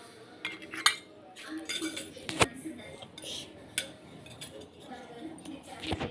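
Toy spoons clink and tap against miniature dishes and pots during a toddler's play, in irregular light clatters with a few sharper knocks, near and fairly quiet, with faint voices in the background.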